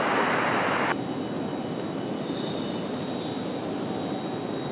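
A jet airliner takes off at Raleigh-Durham airport, heard from a distance as a steady broadband engine roar, with a brighter burst at the start and then an even sustained rumble.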